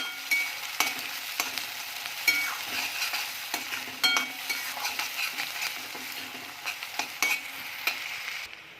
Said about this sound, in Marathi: एक कांदा घेतलेला होता मोठा तो टाकणार आहे परतून घेऊया